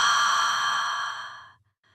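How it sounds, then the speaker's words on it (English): A single long, breathy exhale that hangs for about a second and a half before trailing off, close and eerie, then a faint whisper of air after a short pause. "Not words, just breath."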